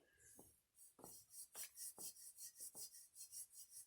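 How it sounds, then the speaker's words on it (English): A finger rubs back and forth across the surface of a ported racing engine part, making a series of rhythmic, close, raspy strokes, about a dozen in quick succession. "You can hear how I rub my finger through."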